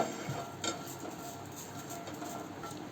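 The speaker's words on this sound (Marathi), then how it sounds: "मिरच्या भाजून घेऊ." Green chilies roast in a hot frying pan with a soft, steady sizzle and crackle, faint and close, broken by a couple of light metallic clinks of utensil against pan.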